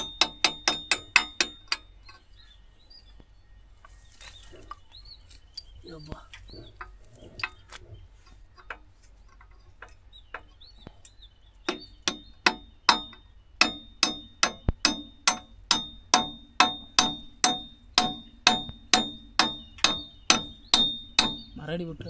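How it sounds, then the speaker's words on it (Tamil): Steady metallic hammer blows strike a bolt while a cultivator is fitted to a Mahindra Yuvo Tech Plus 575 4WD tractor: a few taps at the start, then after some speech a long, evenly spaced run of loud, sharp knocks, about two per second. "மேல் போல்ட்டு வச்சு ஃபஸ்ட் தட்டு."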